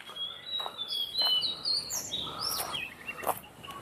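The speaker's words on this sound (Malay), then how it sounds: "Bunyi burung-burung." Several birds chirp and tweet in high, thin whistles and trills, some overlapping, moderately near against a quiet outdoor hiss at a recreation park in Ipoh, Malaysia, with no talking.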